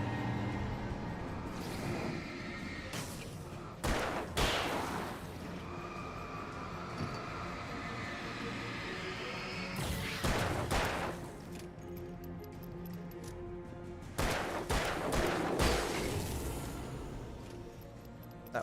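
Gunfire in the Alan Wake video game arrives as several loud, sharp bursts, some stacked close together, over a dense, rumbling in-game ambience.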